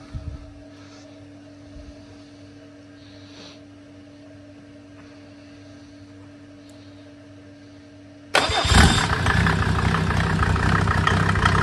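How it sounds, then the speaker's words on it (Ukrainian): A Mercedes OM605 turbo diesel with a mechanical injection pump cranks and fires after its glow plugs heat, a faint low hum and clicks giving way to a sudden loud, rough idle clatter close by for the last few seconds. "Підключили акумулятор, соляру підключили, гріємо свічки і запускаємо."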